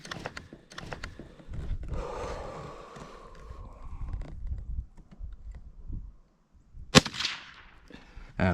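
A Savage B22 Magnum rifle fires a single sharp, loud crack outdoors on a windy day, rising above scattered handling noises and wind.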